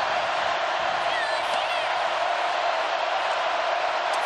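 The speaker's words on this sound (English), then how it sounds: "And the crowd here letting Treon Harris know it." A stadium crowd at a 2015 Florida vs LSU college football game sends up a loud, continuous roar of jeering and cheering, heard from within the stands under steady broadcast commentary.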